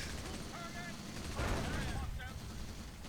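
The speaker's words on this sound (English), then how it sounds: "Oh, they're putting down a good barrage." Artillery pieces lay down a barrage in Company of Heroes, dull thudding blasts and rumble under battlefield noise, with a stronger burst near the middle, while a voice talks over it.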